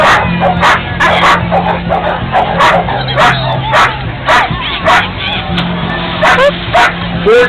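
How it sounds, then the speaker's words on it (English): A young Australian Shepherd at a junior dog competition lets out repeated sharp barks and yips in a quick, uneven rhythm. The barks stand out over busy crowd and arena noise. "He is a gorgeous Australian Shepherd."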